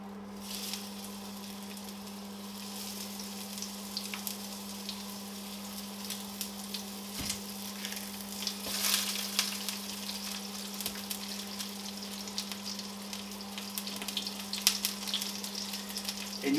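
Chicken and halved onions with their skins left on frying gently in a pan, a steady close sizzle with soft crackles and a constant low hum throughout.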